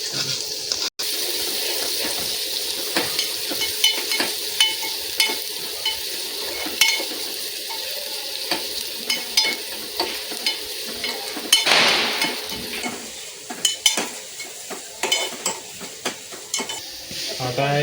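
Onion sizzles in hot oil in a pan for a Konkani-style prawn curry, with a continuous loud frying hiss broken by repeated scraping stirs of a spoon, up close and without voices.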